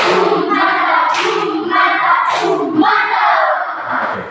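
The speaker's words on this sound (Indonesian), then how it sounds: "Bapak Guru akan memberikan kalian tepuk, yaitu tepuk mantap" Students in a classroom perform a rhythmic clapping chant, hands clapping in quick patterned bursts mixed with loud group shouting, steady and close throughout.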